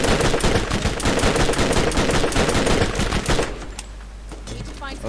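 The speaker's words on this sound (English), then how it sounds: "I heard someone shooting" Rapid bursts of gunfire from the Borderlands video game, loud and dense for about three and a half seconds before dropping off to quieter game ambience with a few scattered shots.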